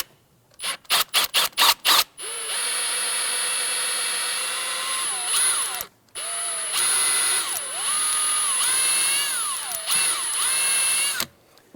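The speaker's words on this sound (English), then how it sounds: "Once this goes through the plastic, you want to make sure that you don't drill into the axle or the tone ring." Power drill boring through plastic at a rear ABS sensor mount on a 2011-2019 Ford Explorer: a few short trigger bursts, then two long sustained runs of whining motor with shifting pitch, close and alone.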